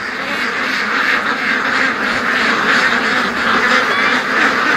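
A flock of ducks quacking continuously, a dense, noisy chorus of overlapping calls close by.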